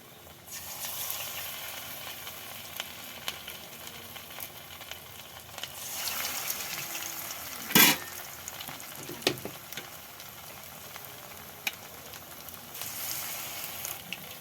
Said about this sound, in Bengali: তেলটা গরম হয়ে গেছে, এবার একটা একটা কপি আমি ছেড়ে দিলাম।